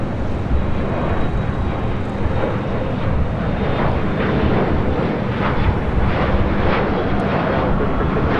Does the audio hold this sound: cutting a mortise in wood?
no